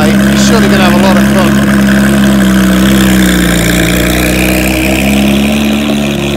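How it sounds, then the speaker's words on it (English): A Porsche 918 Spyder fitted with a Shark Works exhaust runs steadily and loudly at a low, throaty idle with a slight rise in revs, under a continuous engine rumble. "The reason why that sounds so good is because it's been fitted with a Shark's Works exhaust."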